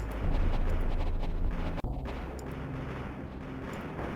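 Sustained mech gunfire in the video game Mech Engineer, a dense, continuous rumble of rapid shots with one sharp break partway through, loud and steady with no talking.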